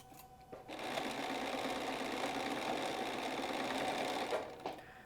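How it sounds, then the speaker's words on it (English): A sewing machine stitches a pillow in one steady, even whirring run lasting about four seconds, close and fairly loud, starting and stopping cleanly with no talk. "Just keep stitching, stitching, stitching."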